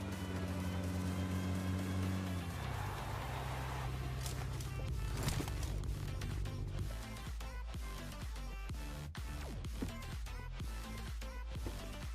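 Vehicle engine hum and motion noise from a car driven in the PUBG Mobile battle royale game, a steady low drone running throughout over background game music, with faint scattered impact clicks and no speech.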